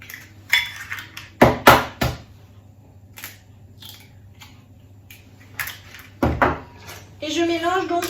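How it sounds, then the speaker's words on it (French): A spoon clinks and scrapes inside a pouring jug while milk and four whole eggs are mixed together, with several sharp knocks and rattles in bursts, steady low hum underneath and a short stretch of voiced sound near the end. "je mélange donc à la cuillère magique directement dans mon pichet"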